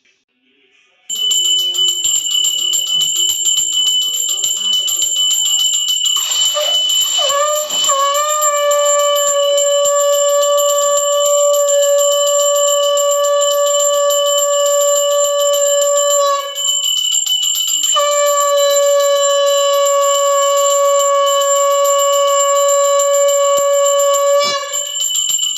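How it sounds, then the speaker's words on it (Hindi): A conch shell blown during aarti on Tulsi Ekadashi: one loud, steady, horn-like tone that bends in pitch at the start, holds for over twenty seconds with a brief break near the middle, then carries on alone. "तो यहाँ पर ये शंख बजाएंगे अब।"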